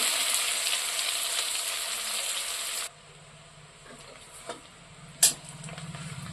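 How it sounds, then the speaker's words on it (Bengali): Chopped onions frying in a pan, a steady loud sizzle that drops suddenly to a quieter hiss midway, with a few sharp clinks of stirring near the end. "পেঁয়াজটাকে একটু ভাজা ভাজা করে নেব।"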